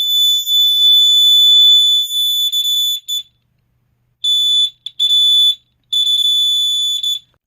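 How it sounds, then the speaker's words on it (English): Fire alarm mini horn wired to batteries going off, a loud, piercing electronic tone sounding in long blasts with short gaps and brief stutters between them, heard alone. "I have the mini horn here wired up to some batteries. So we're just gonna go ahead"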